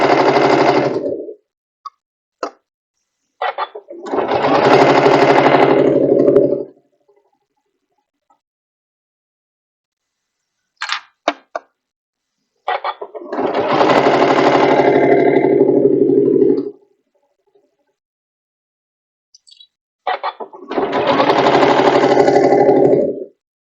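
A sewing machine stitches a cutwork pillowcase in three long steady runs of buzzing motor hum, each several seconds long, separated by quiet pauses with a few small clicks and no talking.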